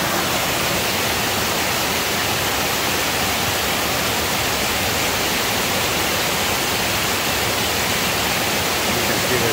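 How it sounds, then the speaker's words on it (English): Water from the Erie Canal Forestport feeder cascades into the Lansing Kill gorge near Boonville, a dense, continuous roaring rush that stays loud and even throughout with no voices. "You can see there's two waterfalls."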